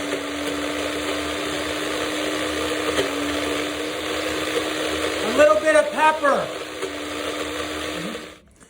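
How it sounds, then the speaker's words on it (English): A small blender whirs steadily for several seconds while making hummus, with a voice speaking briefly over it near the end before the motor cuts off. "especially when our little blender here is not up to task."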